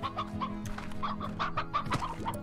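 Chickens clucking in the video game Slime Rancher, a busy run of repeated short clucks and squawks from several birds, fairly close and steady, with no talking.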